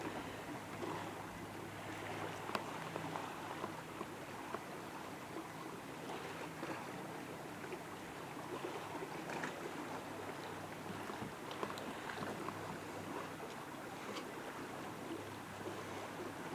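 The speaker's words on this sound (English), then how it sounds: "Here come the waves. Those big powerful jet boats just passed by." Steady wash of water from passing jet boats' wakes lapping and surging against a shore on Raquette Lake, with a faint low engine hum underneath, continuous and moderately quiet throughout.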